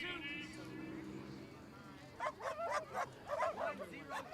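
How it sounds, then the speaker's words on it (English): A dog barks at a high school baseball game, with a quick run of several sharp yips and barks in the background while an announcer's voice talks over the crowd noise. "That's your dog bark?"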